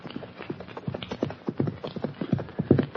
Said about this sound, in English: a horse and rider bear down on them at a fast gallop